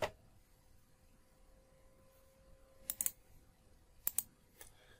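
Quiet typing on a computer keyboard while a word is entered in Microsoft Word 2019: a few sharp, isolated key clicks in two small clusters against a near-silent background.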